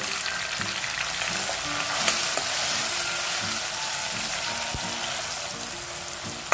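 Chopped tomato with a little salt cooks in a pan for a red cowpea curry, making a continuous close sizzle with occasional faint utensil taps and stirring sounds.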